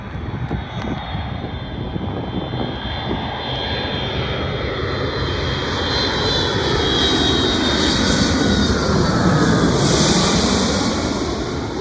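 A Boeing 757-200 jet lands on runway 13L at JFK airport, producing a loud, sustained engine roar and rumble that swells over about twelve seconds, heard outdoors with no talking.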